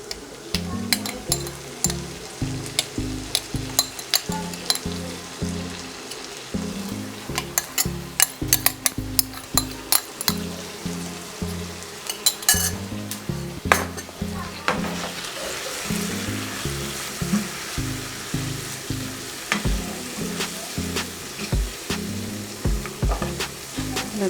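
Soy sauce hitting beef frying in a hot pan for coconut rice and beef, giving a loud, steady sizzle with rhythmic bursts from stirring, close and continuous, with no talk.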